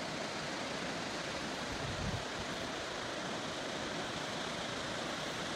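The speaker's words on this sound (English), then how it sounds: "Here's the waterfall." Waterfall on a road trip near Cairns, Australia, a steady broadband rush of falling water heard alone, even and moderately loud throughout with one brief low thump.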